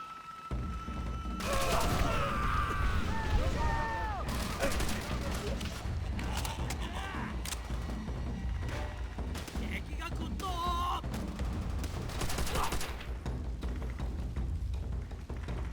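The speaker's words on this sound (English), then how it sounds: "Enemy machine gun!" Sustained gunfire bursts in Call of Duty: World at War on Peleliu Island, rattling continuously under a loud battle din with explosions, close and dense throughout, with occasional shouting voices.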